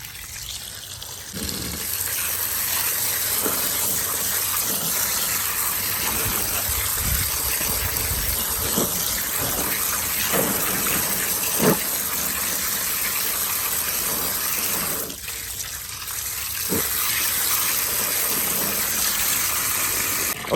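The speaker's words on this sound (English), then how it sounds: "All right, now we're just gonna fill it up with water." Water gushes steadily into a tub of crawfish being cleaned for cooking, a long continuous rushing pour that briefly eases before resuming.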